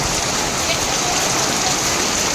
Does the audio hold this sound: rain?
yes